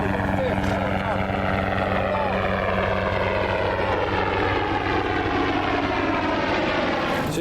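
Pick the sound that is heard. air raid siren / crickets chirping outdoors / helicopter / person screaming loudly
helicopter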